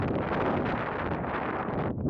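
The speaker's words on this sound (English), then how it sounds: "Well, it's pretty windy" Strong wind on a bluff overlooking the Sea of Cortez on the Baja Divide buffets the microphone with a continuous, loud, rumbling roar, with no talking.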